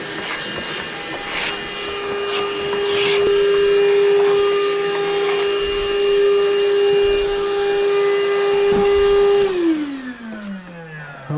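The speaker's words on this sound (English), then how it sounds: "this little vacuum, it does the thing." A small vacuum cleaner whirs steadily at close range with a high motor whine, then switches off and winds down near the end.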